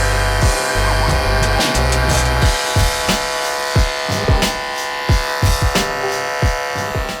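Electric shaver taking hair down short on a head before a full head shave, a buzzing motor with repeated bursts and strokes at close range, no voices.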